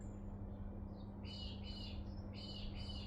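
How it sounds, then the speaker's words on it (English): A bird chirps outdoors in a series of quick, high, faint tweets over a steady low background hum, with no one talking. "Listen to the bird."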